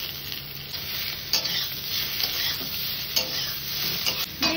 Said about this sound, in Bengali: এবারে আমি এর মধ্যে আলুগুলো দিয়ে দেব। হালকা করে একটু নেড়ে দিতে হবে।